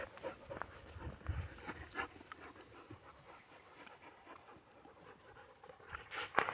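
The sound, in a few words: dog named Wizard panting and moving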